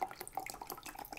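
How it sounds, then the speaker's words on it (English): Clear liquid, a bowel-prep solution, is poured from a bottle into a glass in a brief, faint stream of splashing and dripping trickles, with no other sounds around it. "you pour it in the glass,"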